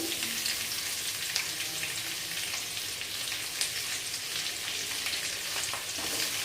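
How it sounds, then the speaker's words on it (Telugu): Onions, green chillies and potatoes frying in ghee, a dense, continuous crackling sizzle with faint stirring, heard close and alone without voices. "ఇవి నెయ్యిలో వేగుతాయి కదా"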